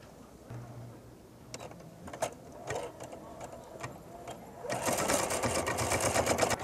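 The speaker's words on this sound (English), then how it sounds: "We can stitch them out." A Singer embroidery sewing machine stitches out a design, starting with soft intermittent ticks and clacks, then settling into a louder, dense, rapid mechanical whir toward the end.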